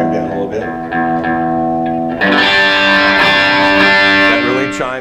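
Electric guitar runs through a Line 6 model of a Vox AC30 amp in Class A mode, playing bright, chimey chords that ring out and get fuller and louder midway through, with no talking.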